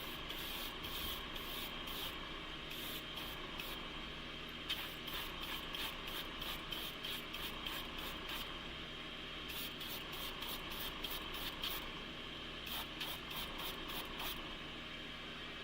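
An automotive spray gun lays down a first coat of color shift paint, a steady close hiss running throughout, broken by rapid clusters of short spitting pulses.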